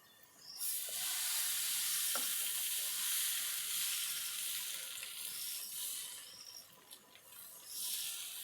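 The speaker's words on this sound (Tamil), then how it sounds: "இப்போ தோசை ஊற்றிக்கலாம்." Dosa batter sizzles on a hot stone griddle, a steady bright hiss that swells soon after the batter is poured and holds, fading slightly before surging again near the end.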